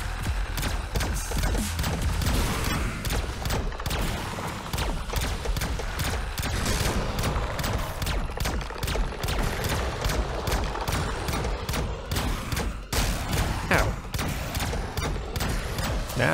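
A gun machine in the Wildcat Gun Machine game fires nonstop, a dense, loud, rapid stream of clattering shots with mechanical clanks running throughout.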